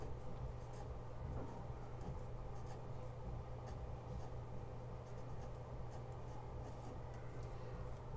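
Steady scratching of handwriting during a second-grade history lesson, faint and continuous under a low background hum, with no talk.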